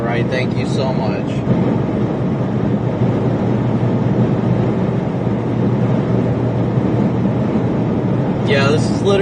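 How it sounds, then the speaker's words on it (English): Strong storm winds buffet a car during a July 2023 storm chase across Nebraska and Kansas, making a continuous loud, rumbling roar with brief faint voices at the start and end. "Yeah, this is literally wind pushing the car right now."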